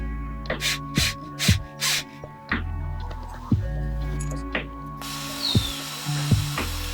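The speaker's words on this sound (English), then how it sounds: "I'm going to use the drill to evenly get a twist on it" An electric drill twisting wire for a recycled wire ring whirs in short repeated bursts, its steady motor tone punctuated by clicks and rattles as it starts and stops.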